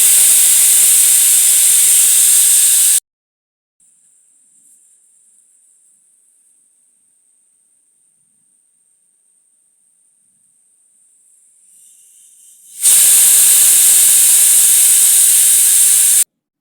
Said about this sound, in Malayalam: കുക്കറിൽ വിസിൽ കേൾക്കണവരെ നമുക്കൊന്ന് വെയിറ്റ് ചെയ്യാം.